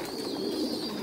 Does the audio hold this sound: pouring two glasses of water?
no